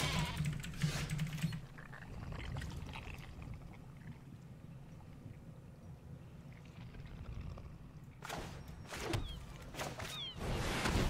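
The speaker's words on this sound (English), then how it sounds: "finish typing the stuff for this upload" Typing on a computer keyboard, with soft, quick clicking in irregular bursts at the start and again near the end and quieter stretches in between.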